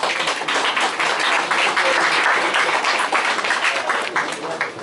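Dense, sustained crowd applause fills the room at a political rally nominating an engineer as mayoral candidate for Cherven Bryag municipality, with steady overlapping claps that hold loud throughout.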